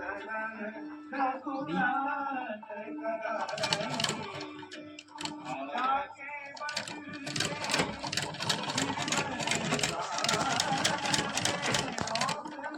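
A household sewing machine stitches with its feed setting turned to 20, giving a close, rapid mechanical clatter that starts in short bursts and then runs steadily, while someone talks over it.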